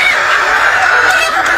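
Around 800 laying hens on a poultry farm cluck and squawk together in a dense, continuous chorus that stays loud and steady throughout.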